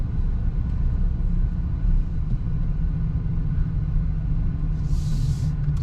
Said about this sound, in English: We're sitting in traffic a little bit.